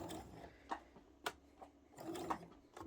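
A sewing machine runs quietly with its presser foot catching the needle, giving a few sharp, irregular mechanical ticks and clicks over a faint whirring hum.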